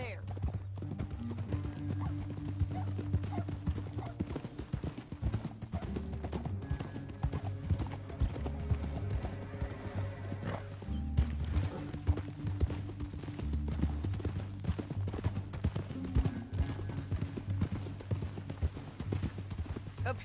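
Horses clip-clopping at a steady canter in the Red Dead Redemption II video game, hooves thudding continuously under a low music bed, with a brief whinny and voices speaking over the riding.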